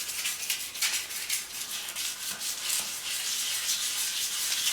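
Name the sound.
sanding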